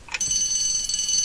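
A bell rings to close a round of a quiz on a Scottish radio show, a bright sustained metallic ring that starts abruptly and holds steadily at high pitch, loud and alone.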